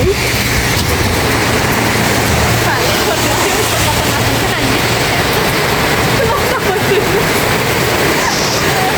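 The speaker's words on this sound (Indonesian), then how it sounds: "Hujannya makin deras." Heavy rain pours outdoors and keeps intensifying, a dense, steady wash of noise filling the whole clip at close range with no pauses.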